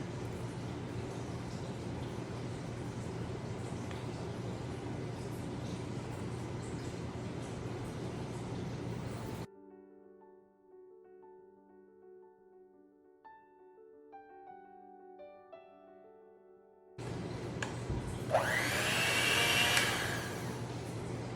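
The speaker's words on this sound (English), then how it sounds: "I switched from the hand mixer, the hand wand to my whip attachment just because I wanted it to be stiffer." An electric mixer with a whip attachment whips a cream cheese filling, giving a steady motor whir that cuts out briefly, then returns louder.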